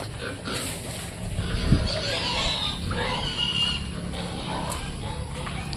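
Pigs grunt and oink in a piggery, a low rough grunt near the middle amid steady farm background noise and faint rustling.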